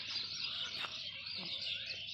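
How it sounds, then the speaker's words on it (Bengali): Faint, busy chirping and calling of distant birds over a steady hiss of outdoor background noise. "কি সুন্দর করে চেঁচামেচি আওয়াজ করছে।"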